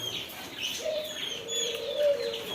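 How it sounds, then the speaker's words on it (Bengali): Pigeons kept in pairs in a poultry and pet shop in Oman, soft throaty coos with faint chirps of other birds in the background, moderately close. "এখানে দুইটা কবুতর রয়েছে জোড়া"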